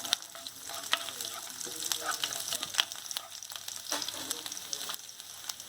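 Garlic and chillies sizzle and crackle in hot oil in a pan while cooking Gobi Manchurian, a steady close frying hiss with scattered pops and a few stirring scrapes, no talking.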